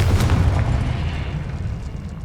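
A Confringo spell explosion in Hogwarts Legacy lands as a loud, booming blast up front, then a low rumbling tail that lingers and slowly fades, with no talking over it.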